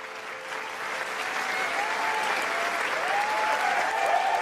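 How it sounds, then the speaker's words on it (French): A crowd applauds steadily, dense clapping that builds slightly and holds strong and close throughout. "Applaudissez, applaudissez, applaudissez, applaudissez, applaudissez."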